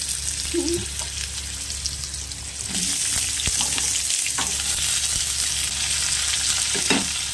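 Potatoes go into hot oil tempered with nigella seeds and dried red chili, and a loud, steady sizzle swells up and holds, broken by occasional stirring scrapes close by.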